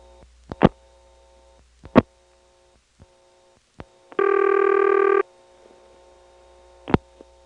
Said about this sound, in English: then you hear the power ring until the recording gets around to the beginning